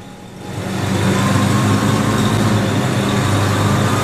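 IH W6 tractor engine pulling in a drawbar test, heard from a dynamometer car: a steady, loud mechanical drone that swells over the first second and then holds constant with no talk.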